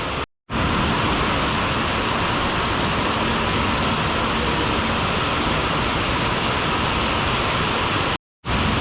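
Heavy rain pours down in a steady, dense roar, loud and close throughout, broken only by two brief cutoffs at the start and end.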